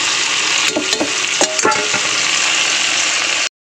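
Fried prawns go into spiced vegetables in a pan, giving a loud, close, steady sizzle broken by a few sharp stirring scrapes and clanks, then an abrupt cut to silence.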